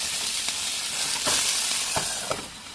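Pork chops simmering in a hot pan give off a steady, close sizzle with a broad hiss, broken by a few sharper crackles and pops, and no voices over it.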